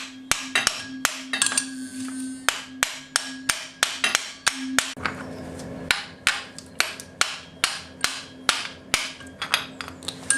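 Sharp metallic hammer taps strike a copper drift to drive a piston off a Porsche 911 engine, about twenty crisp, evenly spaced blows, close and loud with a ringing tone behind the early hits.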